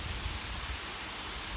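A downpour at Tonoyama Tunnel makes a continuous rushing hiss, even and close, with faint low thumps underneath and no voices.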